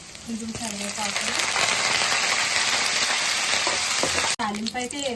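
Cumin, mustard seeds, chana and urad dal, dried red chillies and curry leaves sizzle in hot oil as a tempering, a dense steady crackle with a voice speaking over it near the end.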